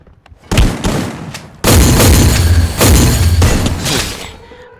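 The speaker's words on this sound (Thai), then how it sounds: "โอ้วางกับดักระเบิดเต็มเลยนะ" Loud explosive booms from bomb traps in a video game burst one after another, several heavy blasts with crackling debris between them, close and intense.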